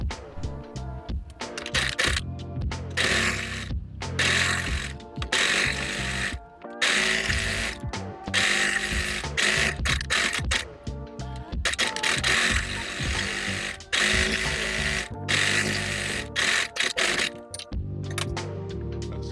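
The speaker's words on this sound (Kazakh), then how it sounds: "Енді мына бауды жиектеп тігіп шығатын боламыз." A sewing machine stitches along the edge of a fabric strap for a shopper tote, running in rapid mechanical bursts separated by short pauses, loud and close with no talking.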